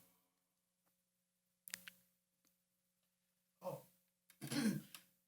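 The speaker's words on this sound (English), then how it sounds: "I had to clear my throat." A single throat clearing, close and fairly loud, with a short earlier rasp and a brief breathy sound after an otherwise quiet stretch.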